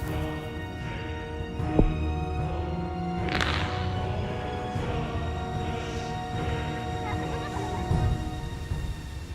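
Birds released in a video game give out repeated gobbling, honking fowl calls over a steady busy game soundscape with a faint tonal hum, several loud calls standing out amid continuous background noise, no speech.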